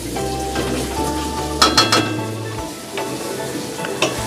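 Masala with green chilli and tomato stir-fried for fish-head moong dal, a continuous close sizzle broken by several sharp spatula clinks and scrapes against the pan.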